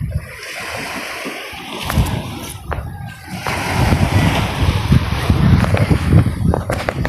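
Strong typhoon wind gusts and roars over splashing, churning high water, loud and turbulent, with the surge swelling toward the end.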